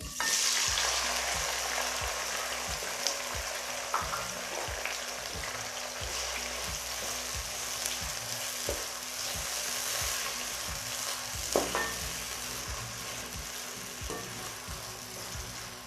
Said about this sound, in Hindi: अभी मिर्च भी फ्राई कर लेंगे।